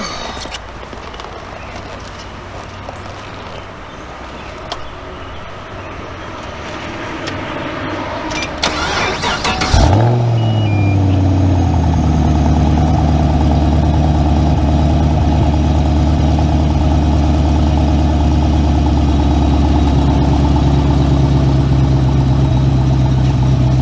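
A Chevrolet Camaro SS starts up around ten seconds in, then idles with a steady, loud, deep engine rumble. Background noise and brief talk come before the start.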